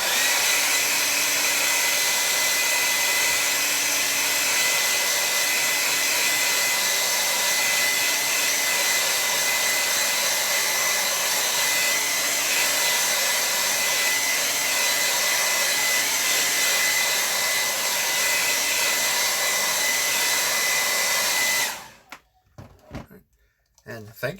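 A hair dryer blows on a watercolor landscape painting, a loud, steady whirring drone for over twenty seconds before it cuts off abruptly near the end.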